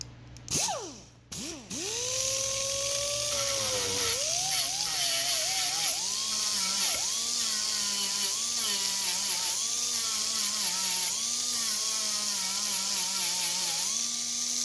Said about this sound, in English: beveling these off just a little bit with this rotary grinder, so we could bevel off the end of the tube so it fits under the gusset